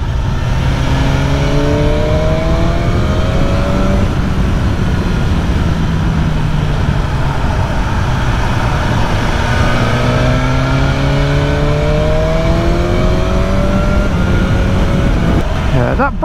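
BMW S1000R naked sport motorcycle engine accelerating, loud and close, with repeated rising revs climbing through the gears in steady sweeps, a continuous roar throughout.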